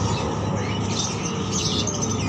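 Many caged birds, including zebra doves and collared doves, chirp and tweet continuously nearby at a bird market in Depok, their calls overlapping into a busy, unbroken chatter.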